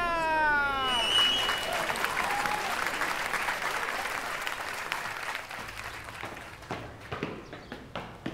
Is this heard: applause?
yes